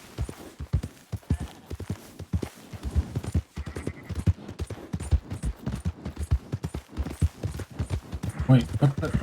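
A horse gallops in Red Dead Redemption 2, its rapid clip-clop hoofbeats running close and continuous alongside game sounds, with a whinny or brief voices near the end.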